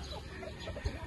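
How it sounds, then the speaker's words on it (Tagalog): Chickens clucking at a poultry farm, soft scattered clucks and murmurs in a brief moment of low, murky background noise with one dull thump near the end. "talagang magaganda at maayos na ang ating mga alagang manok"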